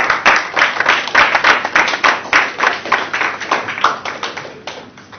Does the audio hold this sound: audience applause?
yes